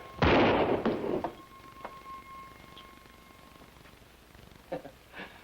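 A single loud pistol shot rings out in a comedic duel, a sharp blast that decays over about a second, followed by quiet room tone, a faint tone and a few small thumps.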